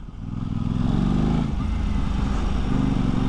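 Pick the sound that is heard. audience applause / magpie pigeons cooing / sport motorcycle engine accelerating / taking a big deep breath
sport motorcycle engine accelerating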